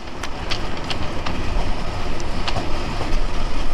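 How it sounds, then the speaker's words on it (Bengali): Chilahati Express passenger train pulling into platform two at Ibrahimabad railway station, a steady rumbling roar of rolling cars with faint clicking wheel beats, close and continuous throughout. "আমাদের আমাদের চিলাটি এক্সপ্রেস ট্রেনটি প্রবেশ করলো ইব্রাহিমাবাদ রেলওয়ে স্টেশনের দুই নং প্ল্যাটফর্মে"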